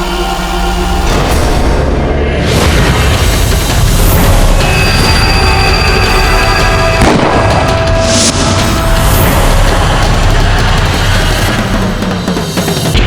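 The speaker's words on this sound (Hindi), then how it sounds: "हमने इतनी गोलियां दागी," Deep cannon booms ring out in a battle scene from a Maharana Pratap historical drama, with heavy blasts near 2 and 7 seconds over a loud, dense bed of dramatic music and rumble.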